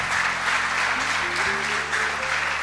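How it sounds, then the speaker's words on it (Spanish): A church congregation applauds during a Spanish-language sermon, a steady dense wash of clapping from many hands throughout, while a voice sings or speaks over it. "¿Cuántos le pueden dar un aplauso al Señor?"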